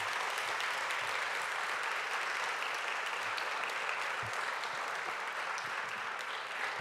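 Sustained, dense applause from an audience honoring a girls' school team at a board of education meeting, steady and even throughout without pause.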